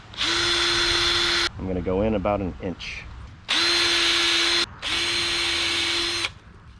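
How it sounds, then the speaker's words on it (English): A power drill whines loudly and steadily while pre-drilling holes for a storm door hinge, running in three long bursts separated by pauses, with someone speaking briefly between the first two. "And I'm going to pre-drill these."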